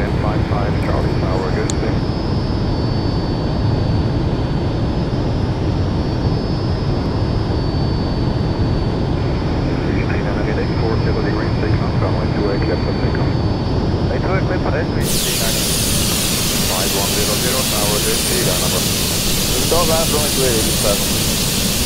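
Fouga Magister jet engine in Microsoft Flight Simulator, a steady loud broadband roar with a high whine, brightening sharply partway through as a hiss rises, heard under someone talking throughout.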